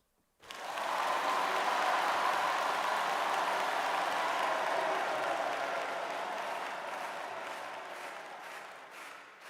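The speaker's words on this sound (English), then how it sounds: "Let's have it do 16 bars of crowd claps." Synthesized crowd applause from an audio plugin, a dense wash of many hands clapping that starts abruptly and holds steady, gradually thinning slightly toward the end, with no voices.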